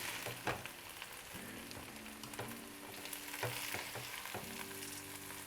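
Chorizo and potatoes fry in a pan, a soft, continuous sizzle with occasional scraping stirs and clinks, fairly quiet and close, without talk.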